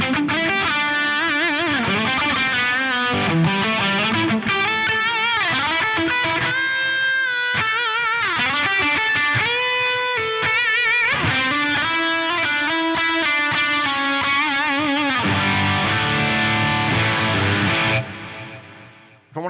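An instrument played through a Strymon Nixie 2 and a Bigsky MX plate reverb: a sequence of sustained, distorted tones with shifting pitches and a lingering reverb wash, ending in a decaying tail before cutting off.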